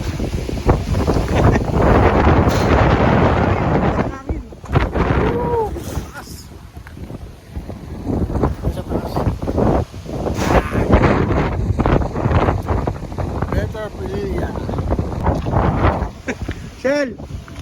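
Strong wind at a windmill farm in Rizal, Philippines buffets the microphone with heavy, continuous roaring gusts, while people talk intermittently underneath.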